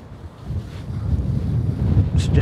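Wind gusts buffet the microphone beside a fishing lake in spring, a low rumbling roar that swells and steadies over a couple of seconds, with faint higher rustling near the end.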